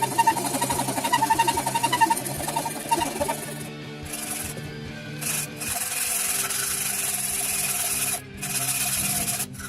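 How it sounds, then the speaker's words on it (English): Sandpaper wrapped around a dowel rubs back and forth over wood while a plank is shaped into a sword, a close, dry scratching that is rhythmic at first and then becomes a steadier rasp. "To round off concave shapes, just wrap a dowel with sandpaper."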